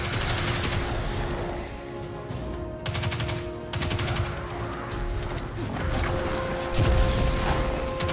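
Rapid bursts of video game gunfire from a weapon in Destiny 2, several sustained automatic volleys separated by short pauses, loud and close with game effects and a faint musical tone underneath.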